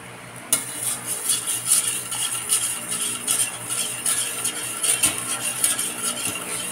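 A utensil stirs water and condensed milk for a dessert, making rapid, repeated close clinks and scrapes against the bowl in a steady rhythm.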